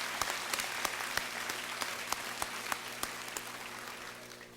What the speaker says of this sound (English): Let's have one more round of applause for our academic award recipients.